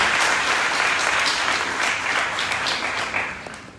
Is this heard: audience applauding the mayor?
yes